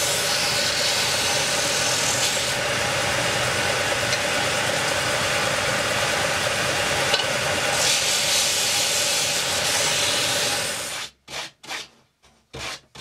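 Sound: sanding wood edges on a sander

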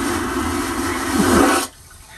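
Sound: water running in cruise ship cabin bathroom

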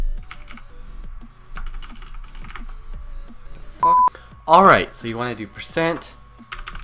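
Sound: typing on a computer keyboard

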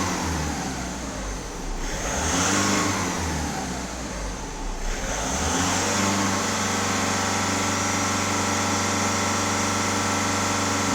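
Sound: VW Golf 1.6 TDI diesel engine revving to about 2900 rpm

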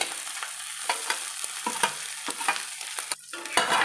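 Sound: eggs frying in a pan with onion and garlic

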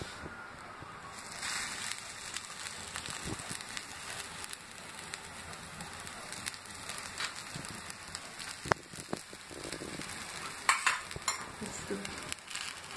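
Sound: paneer sandwich frying in ghee on a tawa griddle

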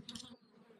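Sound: bees buzzing while foraging on thistle flowers

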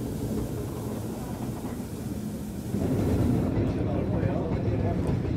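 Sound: Swiss mountain steam train ride

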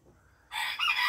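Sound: Araucana chickens in coop

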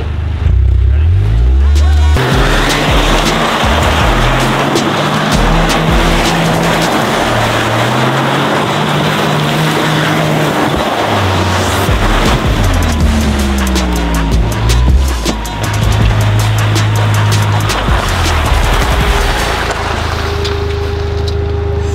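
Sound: Toyota GR Corolla spinning off-road with wheel locked

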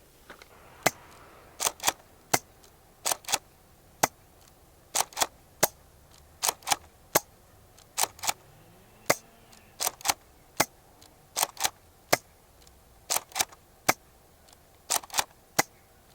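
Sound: Nerf Elite Rampage blaster shots

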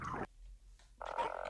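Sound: Jump Toad creature croaking in video game Half-Life: Poke646

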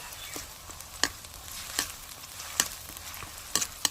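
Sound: onions frying in hot oil

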